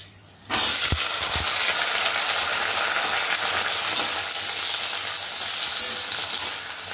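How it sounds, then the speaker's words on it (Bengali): Potatoes and ivy gourd hit hot oil already frying green and ripe chillies, bursting into a loud, steady, close sizzle that holds alone without letup after a short quiet start. "মানে রান্নার আওয়াজটা এত বেশি হয় যে কি বলবো"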